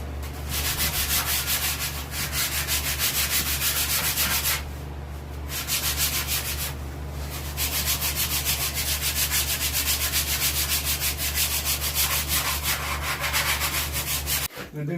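Sanding blocks rub hard over a striped bass fish mount in fast, even back-and-forth strokes, loud and close, with two brief pauses, steady for about fifteen seconds.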